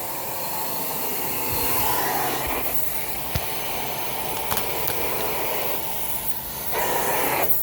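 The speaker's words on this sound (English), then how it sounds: "This is a carpet cleaning wand. This puts down the cleaning rinse." A carpet cleaning wand sprays rinse water onto hotel carpet and sucks it back up, giving a loud, steady rushing hiss of spray and suction that swells and dips in strength with a few short clicks, with no talking.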